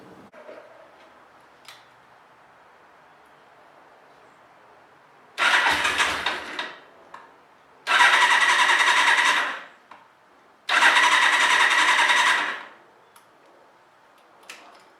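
A 1982 Suzuki GS1100G motorcycle engine being cranked on a chilly day, with three loud, close bursts of starter churning, each lasting about two seconds, separated by quiet pauses.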